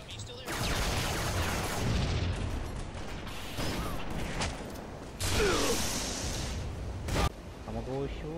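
Sustained rapid gunfire and explosions in the video game Halo MCC, dense and loud throughout with brief breaks, with a player's voice speaking over the shooting.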